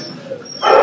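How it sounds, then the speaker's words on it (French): A dog barks indoors at a dog-hero awards ceremony, a brief loud bark bursting out at the end after quieter background noise. "Désolé pour les aboiements."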